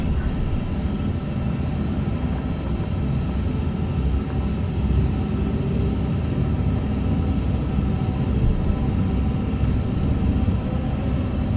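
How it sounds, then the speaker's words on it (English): Airbus A350-1000 engines spooling up to takeoff thrust on a Heathrow runway, a loud, steady broadband roar from inside the cockpit that holds unbroken throughout. "Take off."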